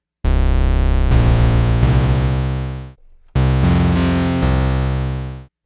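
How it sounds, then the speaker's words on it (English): A bright, buzzy additive sawtooth synth tone from the OS-251 software synth plays two loud sustained phrases, each with stepping note changes, separated by a short near-silent gap. "It sounds like an additive sawtooth. It sounds like a bunch of sine waves put together."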